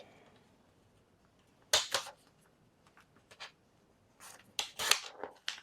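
A large paper trimmer slicing through paper for a junk journal, a few quiet, sharp cutting swipes in two clusters separated by near silence, with no voices.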